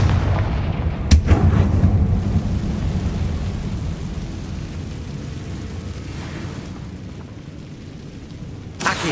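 Confringo fire spell from Hogwarts Legacy, a sharp blast followed by a deep rumbling boom that rolls off and fades gradually, with a faint second impact at the end.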